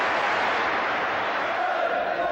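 A football stadium crowd during the 1989-90 season fills the air with a continuous wash of applause and roar, heard from a distance and unbroken throughout.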